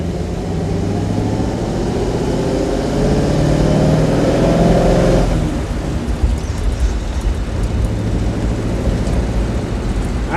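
A Ford flathead engine breathing through Brockman steel-pack exhaust pipes in a Ford convertible sedan, giving a loud continuous low rumble with harmonic drone that rises, then drops off sharply midway to a rough idle-like burble.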